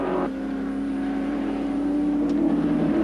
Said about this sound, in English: Harvey has spotted the back of the Chickadee Commodore, and Cross in for the ride too as they head up Mountain Straight